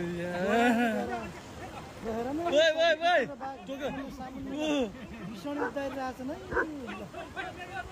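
A dog barks and yips several times amid busy overlapping voices, the barks short and irregular, fairly close and partly buried under the chatter.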